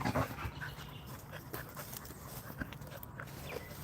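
Dogs play and pant close by, quick rhythmic breathy panting mixed with scuffles and small thumps, moderately loud, with a faint voice now and then.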